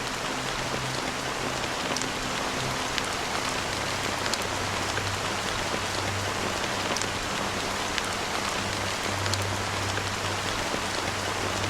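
Steady rain falls in a video game scene, a dense, even patter on surfaces that holds at constant loudness throughout with no voices over it.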